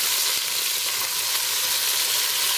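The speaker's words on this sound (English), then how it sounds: "we're simply going to saute the onion and the garlic" Onion and garlic sautéing in hot oil in a pan, a dense, steady close sizzle and crackle with no pauses, fairly loud and heard alone.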